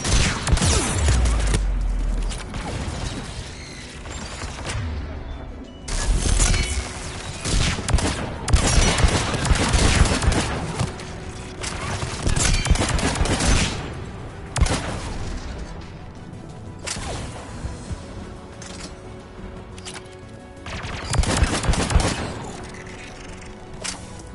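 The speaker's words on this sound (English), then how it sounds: "AA guns ahead of us." Anti-aircraft guns keep firing in a video game battle, with dense overlapping bursts and booming reports that swell and fade in waves across the whole stretch, loud and close, with no voices.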